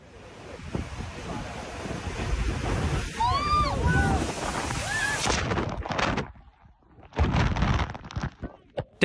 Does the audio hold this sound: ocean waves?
yes